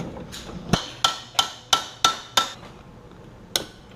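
A hammer drives the axle out of a dirt bike's rear wheel: six sharp metallic blows in a steady rhythm, a pause, then one final strike, all close and loud with no talking.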